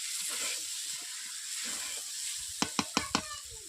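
Pond snails, googli, sautéed in oil in a pan for a village-style curry: a steady sizzle with soft stirring, then four sharp quick spatula clanks in a row near the end, close and unvoiced.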